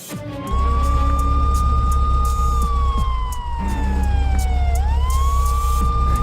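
Police car siren wailing loud and near over a rumbling engine, its tone sliding slowly down and then sweeping back up, with no one speaking.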